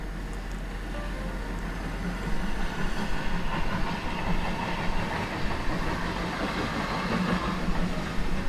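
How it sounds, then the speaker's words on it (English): A local train on the North York Moors rumbles past a road rail crossing with a steady clattering rhythm of wheels on rails, growing louder partway through and staying constant. "As the local train goes up to Levensham yet again."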